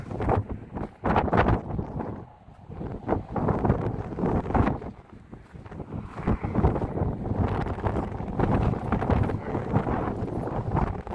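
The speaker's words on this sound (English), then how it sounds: "Only have air blowing at me right now, that's for sure." Wind buffeting a microphone outdoors at a sculpture park, loud gusty rumbling bursts that rise and fall irregularly throughout, with no voices.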